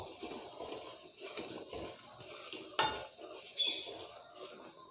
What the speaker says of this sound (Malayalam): നമ്മൾ ഇത് ഇളക്കിക്കൊണ്ടിരിക്കുന്നതാണ് കേട്ടോ പാല് കുറേശ്ശെ വറ്റി തുടങ്ങിയിട്ടുണ്ട്